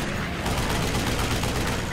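Dense, rapid machine-gun fire from a P-47 Thunderbolt fighter in a World War II dogfight over France, a loud continuous rattle of rounds with no pauses.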